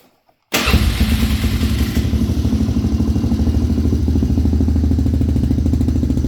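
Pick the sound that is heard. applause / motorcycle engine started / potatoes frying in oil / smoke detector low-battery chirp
motorcycle engine started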